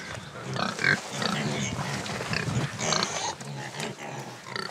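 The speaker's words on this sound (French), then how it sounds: "Les petits cochons de lait." Small suckling piglets grunt and oink continuously at close range on a farm near Tulcea in Romania's Danube delta, a dense chorus of squeals with little else beneath it.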